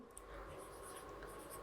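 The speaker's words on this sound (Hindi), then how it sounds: "लिखता हूं" Pen or marker writing on a board during a cost accounting lecture: a continuous faint scratchy scrawl of quick strokes, close and quiet, with no talk over it.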